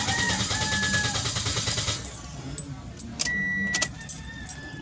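A 2019 Toyota Vios with a hard-starting fault and an empty fuel supply: keys jangle near the ignition, then the engine cranks and hums steadily for a few seconds before cutting off, followed by a few faint clicks and a brief tone.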